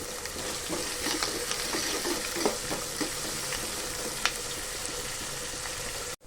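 Ingredients sauté with salt in a hot pan, giving a continuous close sizzle broken by repeated scraping strokes of a stirring spoon.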